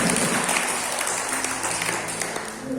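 Audience applause at a church prayer gathering held at a regency government office in Karanganyar, a soft, steady patter of many hands spread evenly across the whole stretch, fairly distant with a faint tonal hum underneath.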